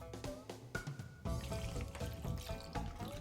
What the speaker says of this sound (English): pour water over them until they are almost covered